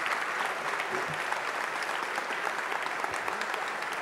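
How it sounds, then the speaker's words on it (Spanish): Sustained applause from a sizable conference audience at an agriculture event, a dense steady clapping that holds evenly throughout without talk. "Fuerte el aplauso, señoras y señores,"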